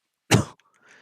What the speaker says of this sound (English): sorry about that. Uh, the cough